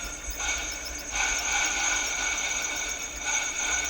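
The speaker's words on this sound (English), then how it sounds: "Then a wee hoover." A small vacuum cleaner hums and whines steadily at close range during a DIY LiFePO4 battery build, its pitch wavering slightly as it moves over the work.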